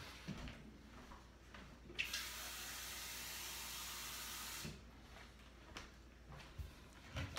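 Tap water runs into a container at a sink while tomato seeds are rinsed. A steady hissing rush starts abruptly, holds for about two and a half seconds and then cuts off, framed by faint handling clatter.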